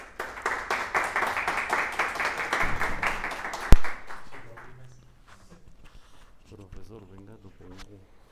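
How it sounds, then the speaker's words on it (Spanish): Audience applause welcomes a speaker at a physics lecture, dense clapping for about four seconds that thins into a few scattered claps, followed by people speaking quietly. "recibámoslo con un fuerte aplauso"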